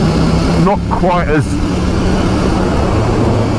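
A KTM 890 Duke GP motorcycle engine drones steadily and loudly as the bike is ridden, with wind rush over it and a rider's voice talking briefly above it.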